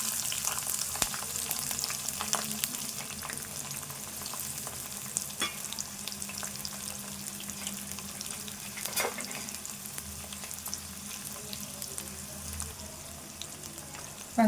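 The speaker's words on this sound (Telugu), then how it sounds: "ఇప్పుడు ఫస్ట్ కట్ చేసి పెట్టుకున్న ఉల్లిపాయ వేసుకుందాము." Chopped onion fries in a pan with cumin, a sustained close sizzle running throughout, with occasional stirring scrapes and clinks and no one speaking.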